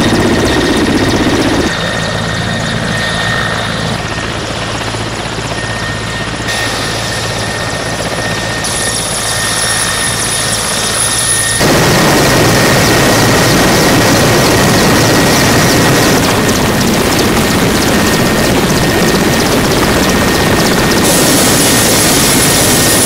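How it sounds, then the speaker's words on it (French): A military helicopter drops troops during the 2014 Loango joint exercise of Central African (CEEAC) states, its loud, close rotor and turbine roar running continuously and unbroken throughout. "Une fois arrivés sur terrain, ils descendent de l'hélico très rapidement pour assurer la défense toutes directions."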